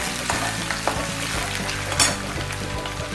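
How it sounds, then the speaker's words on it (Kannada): Green chillies and curry leaves crackling and sizzling loudly in hot oil, a dense continuous spitting fry close up, with a brief scrape of stirring partway through. "ಇದು ಹಸಿ ಮೆಣಸಿನ್ಕಾಯಿ ಕರಿಬೇವು ಸೊಪ್ಪು ಹಾಕ್ತೀನಿ"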